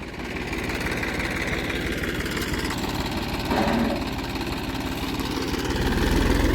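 A tractor engine idles steadily in a farm field, a continuous low rumble with a slight swell partway through and a rise near the end, no voices over it.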